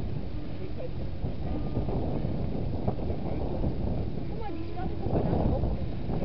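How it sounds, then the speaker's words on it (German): Strong wind blows across an open hilltop by an observatory on a wine-country hiking trail, a loud, constant rushing roar that buffets the microphone throughout. "Und der Wind geht wie Sau."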